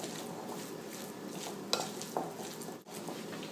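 Yellow mustard stirred in a bowl while making Czech Vlašský salát spread, a steady soft scraping with a couple of brief clinks near the middle. No one speaks.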